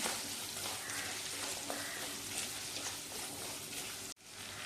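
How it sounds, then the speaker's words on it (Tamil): Onion and garlic soften in a pan of oil, a faint, even sizzle held low throughout, ending with a brief knock and drop. "வெங்காயம் பூண்டு எல்லாம் கொஞ்சம் வதங்கிடுச்சு."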